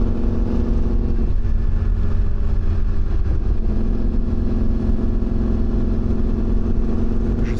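A Yamaha 750 XTZ motorcycle loaded with two cases runs steadily with a low, even engine hum, close and continuous with no clear revving and no talk.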